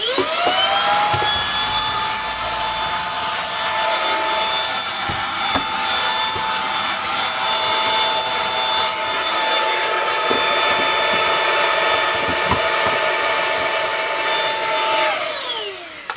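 A vacuum cleaner runs steadily while hoovering a mattress and the space under a bed inside an RV, its loud whine holding constant for the whole stretch before cutting off at the very end.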